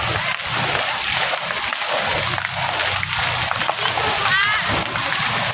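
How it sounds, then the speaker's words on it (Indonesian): Swimmers splash in an outdoor waterpark pool, with continuous sloshing and splattering water close by, under a lively background of children's and adults' voices. "Dewan seneng ya berenang ya Nak ya."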